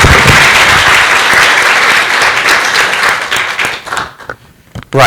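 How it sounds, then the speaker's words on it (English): Audience at a wiki community conference in India breaks into loud, close applause, a thick burst of clapping that thins out and falters near the end before one last brief flurry. "I just wanted to take a moment of applause for all the organizers and all the attendees."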